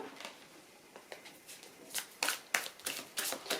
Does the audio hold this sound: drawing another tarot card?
yes